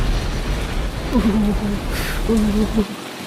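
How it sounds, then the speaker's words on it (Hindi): Heavy cartoon rain pours as a steady broadband wash throughout, a low rumble underneath, with a voice speaking over it in the middle before the rain cuts off abruptly at the end. "मुझे नहीं लगता कि अब यह बारिश रुकेगी।"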